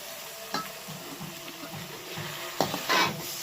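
Cauliflower and potato curry being stirred in a pan, with soft scraping strokes over a low sizzle and a couple of sharper scrapes near the end, close and alone.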